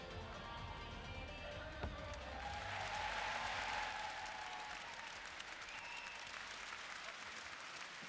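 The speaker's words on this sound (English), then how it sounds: "Das ist dein Applaus, Fritz." Steady applause from a crowd at a youth gymnastics competition, honoring a 14-year-old gymnast's routine, even and sustained clapping throughout with a brief swell midway.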